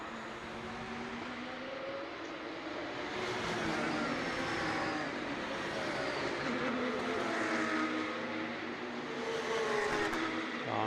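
Porsche Cup race cars running on identical Michelin tires at the DeWALT Grand Prix 2023, Baltic Touring Car Championship, give off a steady, continuous engine roar that swells slightly midway and holds at a moderate distance.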